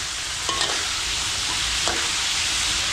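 Food frying in a pan, an even, bright sizzle that runs steadily throughout, with a couple of faint clinks from stirring, close and loud with no talking.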